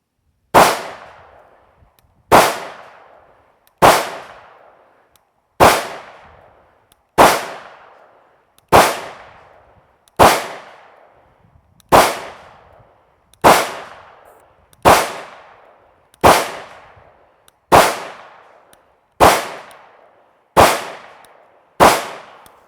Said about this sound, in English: I'm just gonna shoot all 15 rounds at the target on the right.